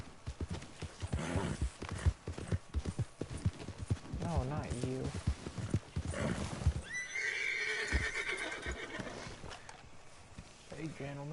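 A horse in Red Dead Redemption 2 whinnies loudly with a long quavering neigh mid-clip, its hooves thudding and clip-clopping throughout under a man's brief spoken words and game ambience.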